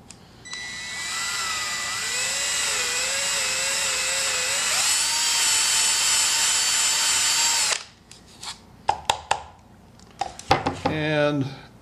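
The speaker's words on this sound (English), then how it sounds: "This is a wood dowel with a slot in the end of it on a cordless drill. This is 220 sandpaper." Cordless drill spins a slotted wood dowel against 220-grit sandpaper, giving a steady, loud whine for about seven seconds that rises in pitch midway, then stops abruptly, followed by short clicks and handling noises.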